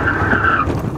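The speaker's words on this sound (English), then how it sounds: "That actually skidded a lot more than I expected." Toyota tires skid and squeal under hard braking without anti-lock brakes, a loud continuous screech holding steady for most of a second before easing off, with no voices.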